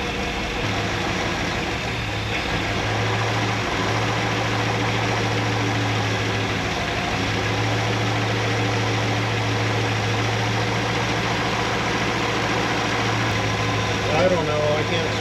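A Buick Skylark engine idles smoothly, a low, steady, even hum with a constant rumble that holds unchanged and close for the whole stretch.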